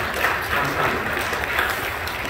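Congregation clapping together in a church at a Friday overnight worship service, a steady dense wash of applause sustained at even loudness throughout without pause.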